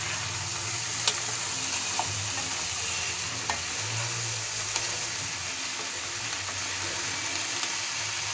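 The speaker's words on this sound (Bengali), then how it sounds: "আলতো করে নাড়াতে হবে যেন মাছগুলো ভেঙে না যায়" Small murola fish and onion stalks are gently stirred in a pan, giving a soft, continuous sizzle with a few faint scrapes and clicks of the spatula at intervals; no talking.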